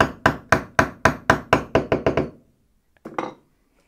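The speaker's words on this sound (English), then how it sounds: "and then hammer it down" Hammer blows on a small toy farm tractor build: about ten sharp, evenly spaced strikes that speed up slightly, then a pause and one or two final knocks, close and clear with no talk.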